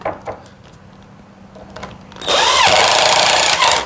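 A power drill drives a self-tapping screw down into a wooden board near the end of the timber: a short loud burst of whirring motor and grinding bite into the wood after quiet handling noises, close up and without speech.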